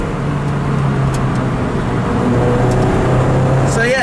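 Lotus Elise Club Racer sports car driving on the road, a steady engine drone with a low hum running throughout, heard from inside the cabin at a constant, fairly loud level.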